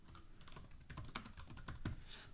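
Rapid typing on a computer keyboard, irregular clusters of light clicking keystrokes close by and fairly quiet, with no talking over them.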